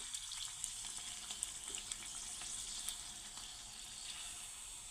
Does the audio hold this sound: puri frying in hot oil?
yes